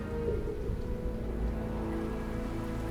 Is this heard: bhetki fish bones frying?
no